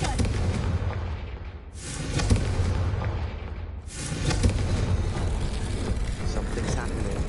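Confringo blasting spell explosions in the video game Hogwarts Legacy: two loud, broad booming blasts a couple of seconds apart, each swelling then fading into rumbling noise, with game sound continuing throughout.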